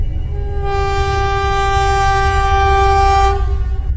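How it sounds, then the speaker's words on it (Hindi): A train rumbles loudly and steadily across a bridge in an animated horror story, with a sustained horn tone sounding over the heavy rolling noise, close and continuous throughout. "हमारी ट्रेन पुल के ऊपर से गुजर रही है।"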